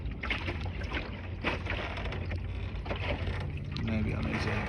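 A small sailing dinghy moves across open water, with steady wind rush over the microphone and water sloshing against the hull close by, continuous and fairly loud throughout.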